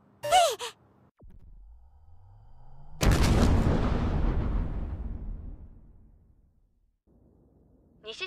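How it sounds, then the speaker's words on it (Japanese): A sudden loud blast bursts in, its roar rumbling and slowly fading over several seconds, after a short gasp-like sound and a low rising tone. "西新宿の雑居ビルで爆発があり、火災が発生するという事故がありました"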